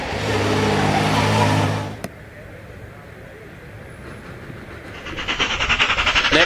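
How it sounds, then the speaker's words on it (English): A Stanley H20 steam car chuffs away up the hill at a vintage sports car climb, a rhythmic pulsing exhaust building louder near the end after a stretch of mechanical rumble and faint crowd noise. "chuffing away literally in the Stanley H20."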